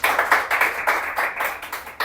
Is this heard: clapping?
yes